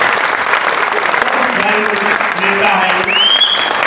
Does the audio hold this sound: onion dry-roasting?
no